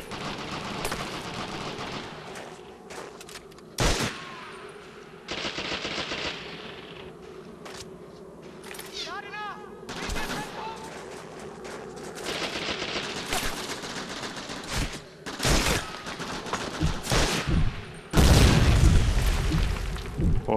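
Gunfire and explosions in the Xbox game Medal of Honor European Assault, during a farmhouse battle: bursts of rifle and machine-gun shots with heavy booms over a constant busy battle din, loud and close.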